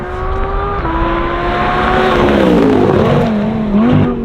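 A supercharged Lamborghini runs a warm-up lap on a race track, its engine droning loud and close with rising and falling pitch as it shifts and passes.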